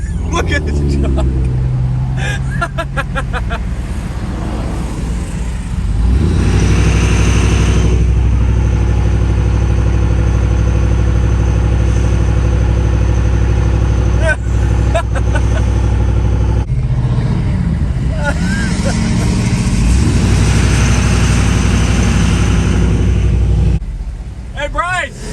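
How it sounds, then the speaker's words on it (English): A truck engine running loudly nearby, with a deep steady rumble that swells and revs up before settling again, heard beneath excited people talking. "Oh, look at this truck."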